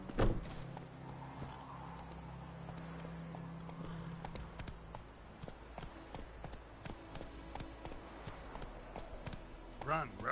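Roach the horse galloping in The Witcher 3, steady hoofbeats clip-clopping throughout over game music and ambient sound, with a voice speaking briefly.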